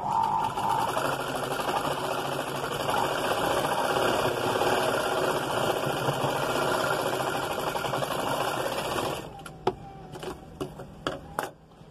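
A sewing machine stitches a blouse with a continuous fast mechanical whir that runs steadily for several seconds, then breaks into a few sharp clicks and knocks as it stops.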